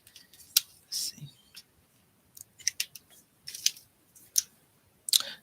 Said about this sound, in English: we're gonna go ahead and fussy cut this out